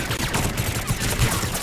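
Dense, continuous gunfire from a Mass Effect 3 firefight, a steady rattle of overlapping shots with no clear gaps, loud and close throughout.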